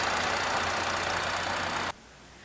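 A 2018 Ford Explorer with a 3.5 liter V6 runs steadily at a dealership, a loud, even engine hum that cuts off abruptly near the end.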